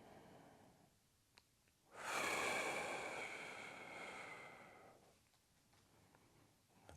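One slow, deep inhale through the nose during a seniors' posture exercise, a soft airy rush that swells and then fades over a few seconds, close and alone in a quiet room.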